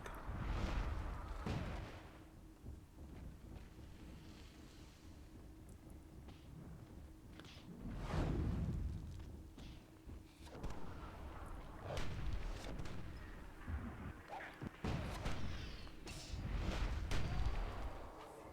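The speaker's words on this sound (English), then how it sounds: "Nice mortar shot there from Asmodean." Mortar fire in the real-time tactics game Myth II Soulblighter during a free-for-all tournament match: several dull booming explosions spread across the clip, moderately loud amid battle noise.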